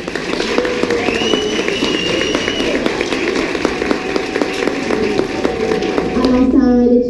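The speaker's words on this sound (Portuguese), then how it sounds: "Uma salva de palmas para a professora Simone." A crowd at a school cultural festival claps for teacher Simone: steady, dense applause of many hands across the whole stretch, mixed with children's chatter and cheering, growing slightly louder toward the end.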